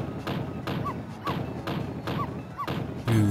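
Dull, heavy thuds of a neighbor lady banging on the wall in the Ghost Trick video game, four or five spaced knocks in a steady rhythm, a brighter tone closing the sequence.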